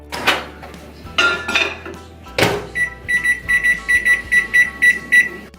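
A running microwave cooking beans hums steadily, with a few clattering knocks of dishes early on, then a bright repeating electronic beep chimes rhythmically several times toward the end.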